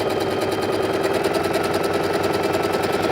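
A sewing machine hums and clatters steadily and close up while top stitching along the edge of a casing on a child's garment, with no talking.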